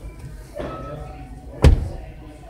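The door of a 2019 Hyundai Santa Fe is shut with a single dull thud near the middle, set against quiet interior background noise.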